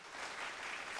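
A short burst of steady applause from a group clapping together, continuous and fairly faint, heard as a sound effect.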